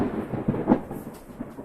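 Thunder from a summer lightning storm, a muffled low rumble swelling briefly then fading, heard from a distance with no talk.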